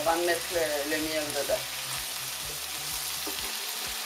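Roasted onions fry in a pan, a steady soft sizzle running the whole time, with a voice talking over the first part.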